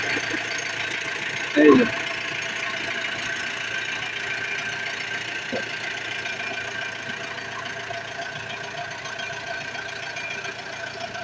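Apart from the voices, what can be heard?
road roller soil compactor engine started and idling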